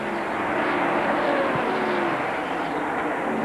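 A NASCAR Busch Series race car roaring past on the track at Atlanta, a loud, dense, continuous engine wash with a slight pitch sweep as it goes by, heard amid broadcast crowd and track noise.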